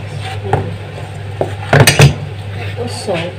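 Fried chicken ingredients are stirred in a bowl, producing a few soft clatters and two louder scraping knocks of utensil against the bowl, with a steady low hum underneath.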